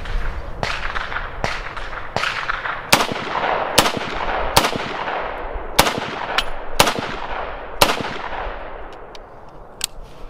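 Sharp rifle shots from a We the People 2020 build ring out one after another, about eleven loud cracks spaced roughly a second apart, each with a short echoing tail outdoors.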